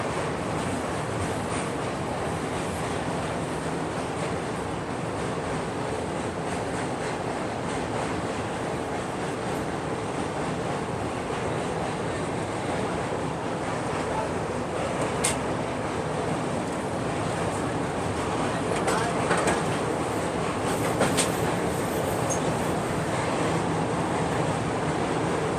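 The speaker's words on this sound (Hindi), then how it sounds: "सामने ये देखो विशाखापट्टनम कोल्लम एक्सप्रेस क्रॉस हो रही है ब्रिज पे से" The Visakhapatnam–Kollam Express crosses a long bridge, a continuous rumble and clatter of wheels on rails heard steadily from a nearby moving train, with a few sharp metallic clanks.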